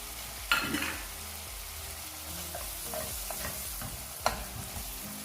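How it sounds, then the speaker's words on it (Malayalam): Beef pickle bubbling with vinegar in a pan is stirred, giving a soft continuous sizzle with scraping stir strokes and two sharp knocks of the spoon against the pan, with no talking. "വിനാഗിരി ചേർത്തതിന് ശേഷം നന്നായിട്ട് തിളച്ചിട്ടുണ്ട്"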